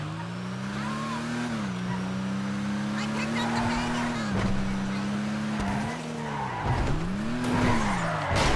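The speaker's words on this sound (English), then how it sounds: "now we can try to do some drifting here" A car engine drones and revs while its tires squeal in long skids during drifting in GTA 5 Online, in a Vulcar Nebula Turbo, with the pitch dipping and rising repeatedly and the sound staying steady and close.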